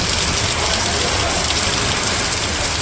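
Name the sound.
heavy rain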